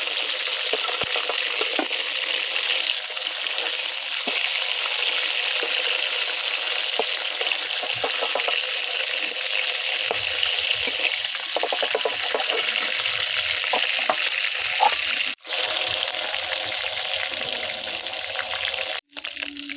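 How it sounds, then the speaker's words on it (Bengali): Chicken pieces fry in hot oil, giving a steady, close, broadband sizzle that runs without pause, with a couple of brief dropouts near the end and no voices. "চিকেনগুলো সব ভাজা হয়ে গেছে"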